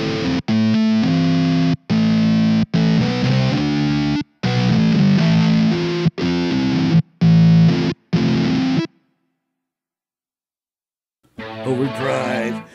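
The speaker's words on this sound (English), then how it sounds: "distortion guitar." Distortion guitar voice played on a Roland FP-E50 digital piano, a series of loud, gritty overdriven chords and short phrases with abrupt stops, followed by silence and then a brief burst of voice at the end.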